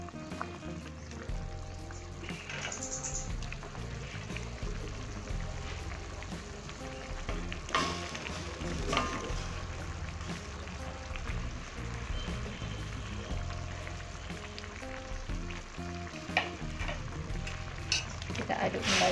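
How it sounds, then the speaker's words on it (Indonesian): Shrimp and meatballs dropped into a pot of boiling water, giving a continuous bubbling, sizzling wash with occasional splashes and clatters, heard under background music. "Sekarang kita masukkan udang dan juga bakso."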